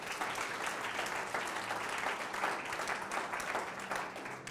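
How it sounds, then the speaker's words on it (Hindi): Applause from a church congregation during a Hindi sermon, a steady dense wash of many hands clapping that holds loud and even for several seconds with no talk over it. "ताली बजा सकते हो।"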